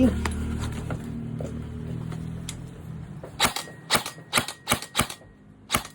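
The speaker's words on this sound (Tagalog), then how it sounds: "400 FPS out of the box. Full auto." A Raven TAC 1 AEG airsoft rifle fires sharp full-auto bursts close by, a cluster of loud snapping shots in the second half after a stretch of low background hum and indistinct talk.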